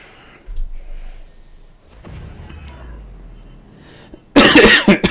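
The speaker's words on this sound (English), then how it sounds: "Cough, cough, cough, cough, cough." A single sharp, loud cough bursts out near the end of the clip. Before it, a quiet low rumble from a Star Citizen cockpit fills the space, with no talking.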